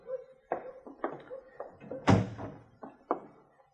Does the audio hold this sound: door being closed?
yes